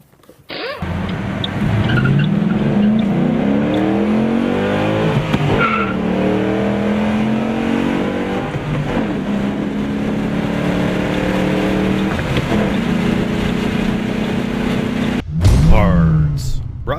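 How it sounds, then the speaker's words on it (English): Ford Mustang out on a test drive, fitted with an aluminum drive shaft and a Steeda Tri-Ax shifter: a loud, steady car sound with long squealing, skidding tones, then a sharp burst near the end. "Finally, put the boot back on and take it out for a test drive."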